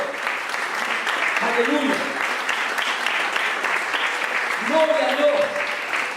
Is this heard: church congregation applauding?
yes